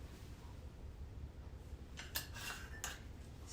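Stevia and cinnamon are stirred into paleo pancake batter. A few quiet, bright clinks of a utensil against a bowl rise above a soft room hush near the end, with no talking.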